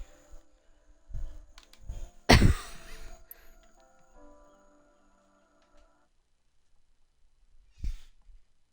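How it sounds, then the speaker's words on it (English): A person yawns aloud in a quiet room, a long drawn breath with a rising, sighing release, while faint television music plays in the background; a softer exhale follows a few seconds later. "why do I always gotta yawn so much when I'm on here?"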